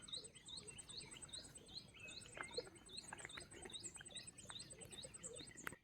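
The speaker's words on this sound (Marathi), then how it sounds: "पाखरांचा किलबिलाट" Small birds chirp and tweet in quick repeated bursts around a quiet Konkan rice field on a calm morning, soft and somewhat distant over a faint background hush, with no talking.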